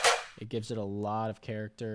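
A snare drum sample in a black metal guitar type beat: one sharp, bright snare hit at the very start, followed right after by someone talking.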